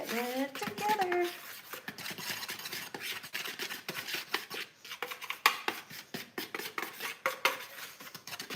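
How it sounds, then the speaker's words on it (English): Dry ingredients for pumpkin cinnamon rolls are stirred in a bowl with a utensil, giving a steady run of scraping and clinking strokes close by, with a voice speaking over the opening. "We shake it and we stir it and we get it together."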